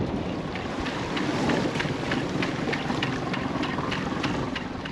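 Steady, blustery wind buffets the microphone on a boat while deep-water fishing, with a constant low roar and a faint rhythmic ticking running underneath.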